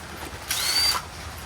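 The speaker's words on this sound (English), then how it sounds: "First thing we need to do is get these lug nuts loosened." A power tool, likely an impact wrench, spins to loosen the lug nuts on a Chevy Silverado 2500 truck wheel, one short whirring burst of about half a second, close and fairly loud, between quieter surroundings.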